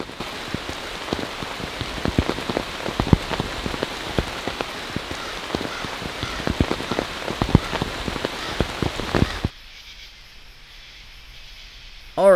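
Medium to light rain patters on a LiteFighter one-person military tent at night, a dense run of close, sharp drop hits that suddenly drops to a quiet hush for the final few seconds.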